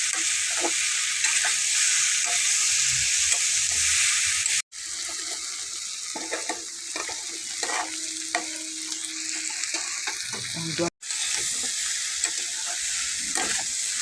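Peas and chopped tomato sizzle steadily in a hot oiled pan, with intermittent scraping and stirring clatter over a continuous frying hiss; two brief dropouts break the sound.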